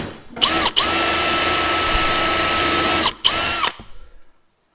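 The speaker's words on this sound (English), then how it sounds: "I drill right there and I'm drilling right onto a screw" A power drill drilling into a screw while removing a Toro roller bearing race whines loudly and steadily for about three seconds, stops briefly, then revs again in a short burst before falling quiet.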